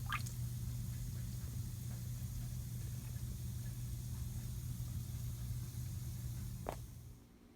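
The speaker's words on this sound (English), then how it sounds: "Look at all those bubbles" Electrolysis rust-removal tank bubbling and fizzing as a steady, close wash of noise, with a brief squeak near the end before the sound drops away.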